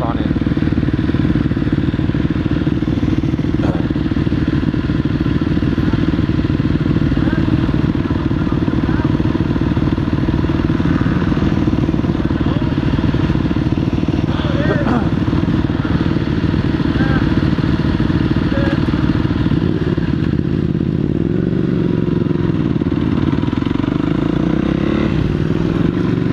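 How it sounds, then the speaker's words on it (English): A Yamaha WR450SM supermoto's single-cylinder engine drones loudly and continuously while being ridden in pursuit of a Ducati 1299 Panigale, with rushing wind and a few clattering knocks. "We'll see what the Supermoto does."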